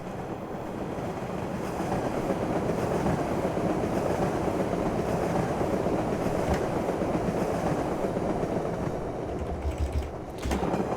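MBTA Orange Line train passing in the OpenBVE rail simulator, a steady rumbling roar with faint clickety-clack and mechanical rattle, heard from outside at close range and continuous for the whole stretch, no voices.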